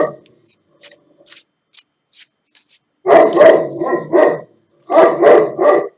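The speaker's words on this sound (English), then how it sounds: "An Alsatian who is saying that something's up is a really horrible sound." A large Alsatian barks in loud, rough bursts, two clusters of several barks each, close by, after a stretch of faint scattered sounds.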